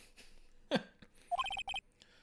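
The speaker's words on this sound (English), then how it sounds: "Oops. Sorry, that's my phone." A phone ringtone from the Ace Attorney video game, a bright, quick, repeating melodic chirp of several notes after an earlier short sound effect, fairly faint overall.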